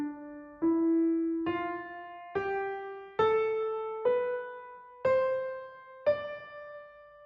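A piano plays the Dorian mode, climbing eight notes one by one from D up to D, each key struck cleanly and left to ring briefly before the next in an even stepwise ascent.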